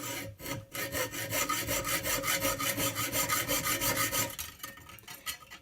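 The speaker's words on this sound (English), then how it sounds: "So we're just going to go ahead and go with the hacksaw." A hacksaw cuts a slit through a track bar bushing on a Ford Dana 60 axle, giving steady back-and-forth rasping strokes in a quick even rhythm, close and loud, with no talk.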